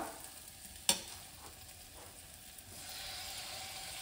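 Tomatoes cooking gently in a pan over a low flame, with a faint, soft sizzle, one sharp utensil clink near the start and a slightly stronger steady hiss toward the end.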